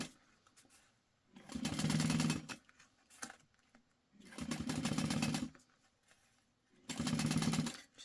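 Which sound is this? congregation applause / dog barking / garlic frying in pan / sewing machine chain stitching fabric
sewing machine chain stitching fabric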